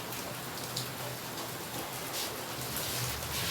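Steady rain falling outdoors, a continuous broadband hiss heard from indoors with no talk, constant and moderately faint throughout.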